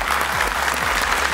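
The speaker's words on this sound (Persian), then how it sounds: "میریم معرفی میشیم با خانواده افغانیار، تشویق کنید." Studio audience applause on the Afghan game show Ro Dar Ro, a version of Family Feud, as a family is introduced: dense, steady clapping at full level throughout, with no voices over it.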